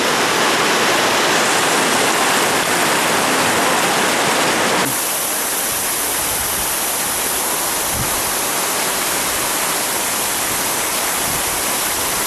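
Aek Godang waterfall pours down onto large mossy boulders in a wild river gorge, a loud, dense, unbroken roar close by that shifts slightly in tone partway through, with no voices.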